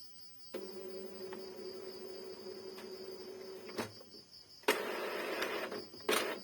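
An Epson L3210 inkjet printer runs a head-cleaning cycle, giving a faint mechanical whir with a steady hum, a few soft clicks, and louder motor bursts near the end.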